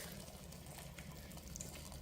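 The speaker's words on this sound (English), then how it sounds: "now I'm gonna go ahead and pour some boiling water on the ackee" Boiling water pours steadily over canned ackee in a small bowl, a continuous low splashing wash that stays at an even level throughout.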